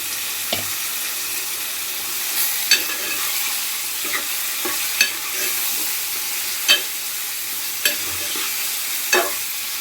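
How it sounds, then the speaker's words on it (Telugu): Chicken frying in a pan, laid in after the oil turned golden and seasoned with rock salt, for a bagara rice and chicken meal: a steady broad sizzle with scattered sharp pops and spatters, fairly close, with no talking. "చికెన్ మంచిగా ఫ్రై అవుతుంది, మంచిగా ఉడుకుతుంది కూడా."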